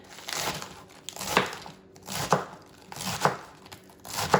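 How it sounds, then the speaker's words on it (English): A Pioneer Woman knife chops salad on a cutting board in four or five crisp, evenly spaced strokes about a second apart, close and clear with no talking. "I'm gonna take my Pioneer Woman knife and we're just going to like chop it"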